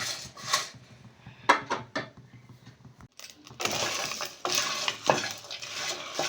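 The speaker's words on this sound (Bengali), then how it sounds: "মশলা ধিমে আঁচে ভালো করে ভাজা ভাজা করে নিয়েছি।" Whole garam masala spices dry roasting in a kadai over low heat, with light scraping and rattling of the spices stirred against the pan, quiet pauses between stirs and a rustling stretch later on.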